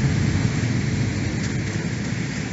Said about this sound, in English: the beds are dry and the rain is falling through the cracks.